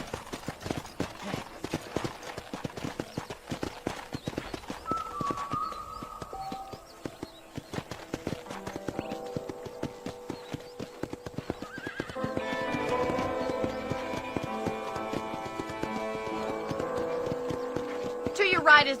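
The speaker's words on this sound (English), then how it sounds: "I picked out a fine horse for you. Giddy up!" Horse hooves clip-clop at a steady walking rhythm in the Western game Red Dead Redemption. The clear, regular clops run throughout, under a speaking voice and soft background music.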